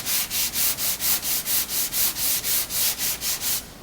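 Sanding 3M finishing glaze filler on an auto body panel by hand, about fifteen even back-and-forth rasping strokes in a steady rhythm, loud and close with no talk.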